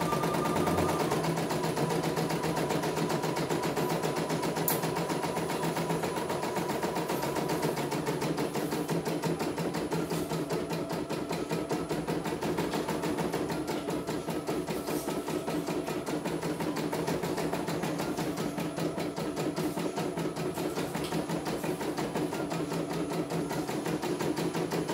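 A CNY E900 embroidery machine stitching, a fast, steady mechanical needle rattle with a droning motor hum running continuously and close throughout, with no voices.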